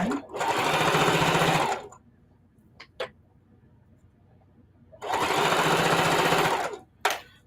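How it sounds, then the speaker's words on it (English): Sewing machine running in two sustained bursts of rapid stitching as it sews in the ditch across a scrappy flip-and-sew table runner, with a few sharp clicks and handling taps in the quiet pause between runs. "And I'm stitching in some ditches"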